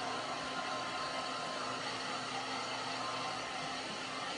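Hair dryer blowing on a painted wooden Christmas fireplace craft piece, a steady loud broadband whoosh with a faint hum, continuous and close, with no talking.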